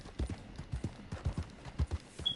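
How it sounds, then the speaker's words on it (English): Mustang horse hooves in a PS4 video game, clip-clopping in a steady, rapid rhythm of paired thuds, moderately close and fairly quiet, with no talk over them. "The Mustang. It's a pretty cool horse."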